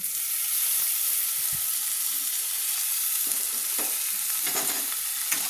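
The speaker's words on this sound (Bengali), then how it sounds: "দিয়ে আবার ভালো করে নেড়ে নিচ্ছি। মশলাটা আমার কষানো হয়ে গেছে।" Spices with ginger garlic paste fry in oil, a constant bright hiss with a few soft scrapes of stirring late on, close and with no one talking.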